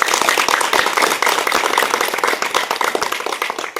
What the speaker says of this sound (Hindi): अपने माता जनक नंदिनी का नाम का एक जबरदस्त ताली हो जाए।